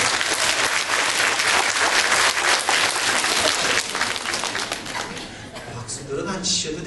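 A church congregation claps together in loud, dense applause that fills the room, then thins and tapers off over several seconds.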